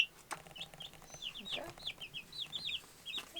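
An Australorp chicken gives a run of short, high clucks and chirps at a steady patter, fairly faint against quiet outdoor homestead background.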